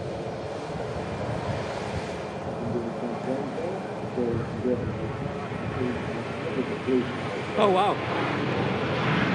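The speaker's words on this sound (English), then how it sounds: "We have a Virgin Atlantic on the taxi out to Atlanta as well." A Virgin Atlantic airliner taxiing out for a flight to Atlanta, its engines a steady low roar at moderate distance, with people talking and exclaiming over it.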